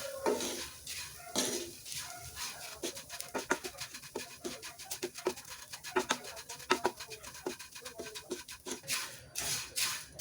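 Rice flakes (aval) roasting in a pan while being stirred, giving a steady run of light dry scraping and clinking strokes, close and fairly quiet.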